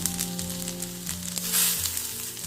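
Urad dal, dried red chillies and asafoetida sizzle steadily in hot oil with mustard seeds, a close, continuous frying crackle with a low hum beneath.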